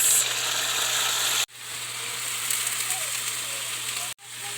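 Sardines being stirred and frying in a pan with onions, a steady close sizzle and crackle with a faint hum underneath, cut by two abrupt breaks.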